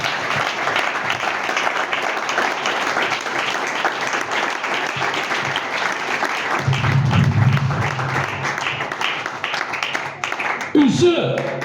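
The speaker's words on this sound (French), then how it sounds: "Acclamez le Seigneur Jésus-Christ." A church congregation applauds and cheers in acclaim of the Lord Jesus Christ, dense sustained clapping filling the room, with crowd voices mixed in and a brief rustle near the end.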